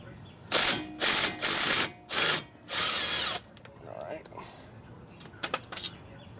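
An impact or power tool on a front brake caliper bolt of a 2001-2007 Toyota Highlander fires in five loud close bursts, followed by quieter clicks and handling noises.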